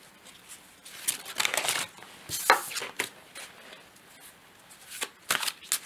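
A deck of playing cards being shuffled, with cards jumping and flicking loose: several close, crisp riffling bursts of varying length, separated by quieter gaps.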